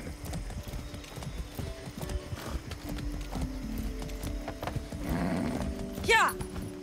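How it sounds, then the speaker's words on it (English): A horse clip-clops in a steady galloping rhythm inside the Far Cry 6 video game, with game sounds and a neigh near the end. "I haven't ridden a horse since basic training."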